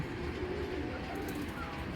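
Racing pigeons from the BRPO FC club coo softly within a steady, noisy loft ambience, with faint voices in the background.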